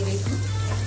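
Carrots tossed into a hot pan with onions, giving a steady close sizzle of frying throughout, with a low steady hum underneath.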